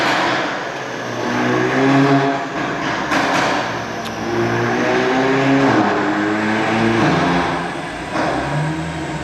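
Mercedes-AMG A45S with Cobra downpipe and Milltek race exhaust revving hard on a dyno, muffled through a closed door, a steady loud engine drone rising and falling in long sustained pulls.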